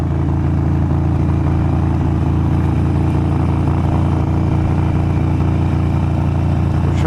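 Harley Sportster fitted with a Vance and Hines Grenades exhaust, ridden on a road while dropping a gear: a loud, steady, rumbling engine drone with a rattly edge, holding throughout without pause and no talking.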